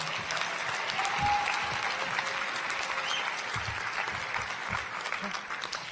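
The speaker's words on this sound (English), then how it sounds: "Let's give both of our student speakers another round of applause." Graduation ceremony audience applauding student speakers, a sustained even wash of clapping from a large crowd with scattered louder individual claps throughout.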